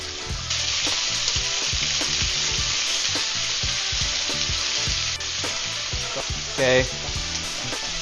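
Steak searing in a very hot pan with pepper, a loud continuous sizzle with crackling pops and a few stirring clatters, one brief word spoken over it.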